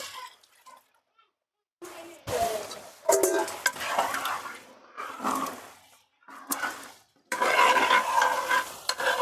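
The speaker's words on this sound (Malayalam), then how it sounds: "ശരിക്ക് തിളച്ച് കുറുകി ഇനി നമുക്ക് രണ്ടാം പാൽ ഒഴിച്ചു കൊടുക്കാം" Carrot and banana payasam being stirred after second coconut milk is poured in, with bursts of spoon scraping and liquid churning alternating with short pauses, close and fairly loud.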